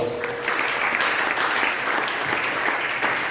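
A church congregation clapping together, steady dense applause filling the room at close range with no break.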